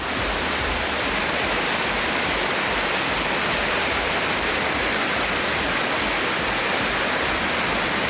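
Flooded waterfalls at Suruli, Kumbakkarai and Chinna Suruli in Tamil Nadu after heavy rain, roaring as a steady, dense rush of water that fills the whole clip loudly and evenly, with no voices.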